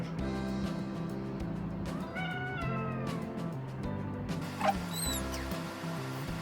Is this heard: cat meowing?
yes